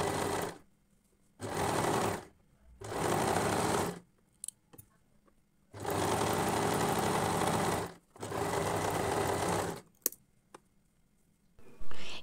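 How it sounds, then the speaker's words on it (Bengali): A sewing machine stitches the side seams of a baby dress in several loud, steady bursts of a few seconds each, with short quiet pauses and small handling noises between runs. "সেলাই করে দিব।"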